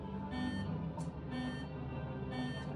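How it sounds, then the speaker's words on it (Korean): A gas leak alarm sounds in a chemical tanker pump room during a safety simulation: fairly faint repeating beeps, roughly one per second, over a constant low hum. "아이고 이게 뭔가 알람이 뜹니다."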